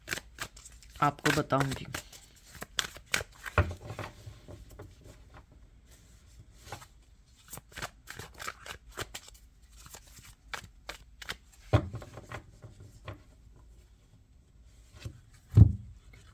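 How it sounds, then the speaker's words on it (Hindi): Tarot cards are shuffled by hand in short, crisp riffling bursts separated by quiet pauses, close and fairly soft, while someone speaks between them. "मैं इसको पहले से ही शफल कर लेती हूँ"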